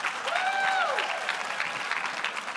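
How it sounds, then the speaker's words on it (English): A crowd claps at an awards evening for marketing professionals, the dense applause sustained throughout while a brief whistle or cheer rises near the start. "another nice round of applause for all our CPSMs"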